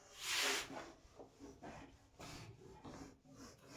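Rubbing strokes across a surface, a louder rasping sweep at first followed by several softer, uneven passes, close and quiet with no talking.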